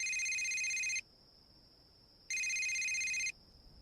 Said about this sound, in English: Suddenly, Tim's cell phone rings.